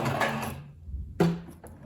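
A sewing machine stitching through fabric and paper for a craft project, a short whirring burst of needle strokes, then a pause and a second brief run with a clunk, close by with no talk.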